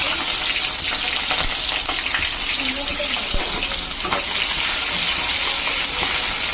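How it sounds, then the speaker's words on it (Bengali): Steady, loud hiss of onions frying in hot oil fills the scene, with faint scraping and a few soft clinks; no talking. "তেলটা গরম হয়ে গেছে। আমি এখানে পেঁয়াজটা দিয়ে দেবো।"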